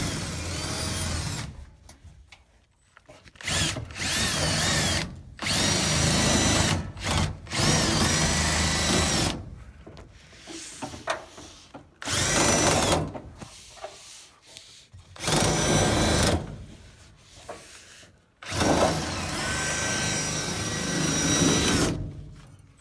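A power tool cuts through the top and bottom of an HVAC coil during an ICP unit install. Several loud, close bursts of whirring, grinding cutting are broken by short pauses and quieter handling noises.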